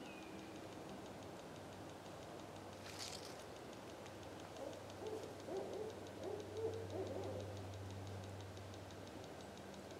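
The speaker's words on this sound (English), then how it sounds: "Another owl over there. They're talking to each other." Two owls hoot back and forth in Florida woods at night, soft repeated calls rising midway through, answering each other at a moderate distance over a steady hum of insects.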